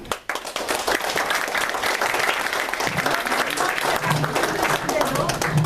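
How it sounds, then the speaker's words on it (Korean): Sustained audience applause at a Potomac Forum lecture hall event, a dense, steady wash of many hands clapping close and loud for several seconds after a brief quiet start. "자, 큰 박수 한 번만."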